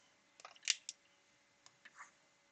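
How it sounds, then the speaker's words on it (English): Scissors roughly cut a rectangle out of fabric in a quiet room, a few faint, short snips and clicks in quick succession, then two more after a pause. "I'm going to roughly cut out a rectangle that's going to be the right size"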